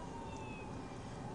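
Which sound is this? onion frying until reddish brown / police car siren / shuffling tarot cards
police car siren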